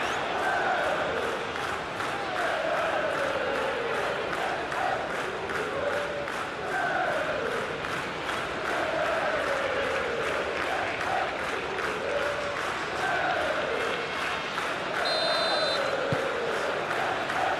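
Stadium crowd noise from an eFootball PES World Cup 2026 final simulation between England and Belgium, a steady roar with rising and falling chants, under a commentator's voice throughout.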